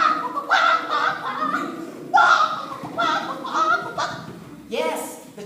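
A voice imitating panicked chickens, with a run of loud, frantic squawks and clucks in bursts, close to the listener.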